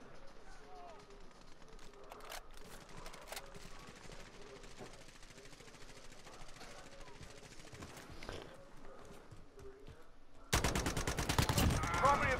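Gunfire in a battle royale video game rattles in bursts through the clip under steady game background noise, with a loud, dense burst of shots near the end.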